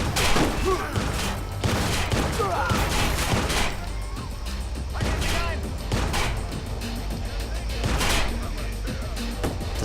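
Heavy gunfire in Watch Dogs, repeated loud shots and volleys in irregular clusters over about ten seconds, with someone speaking over parts of it.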